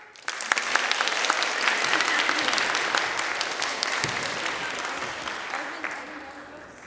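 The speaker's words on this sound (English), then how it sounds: "everyone's going to clap" After a children's play, a group of kids bursts into sustained clapping that swells, holds steady, then slowly tapers off, with a few voices mixed in.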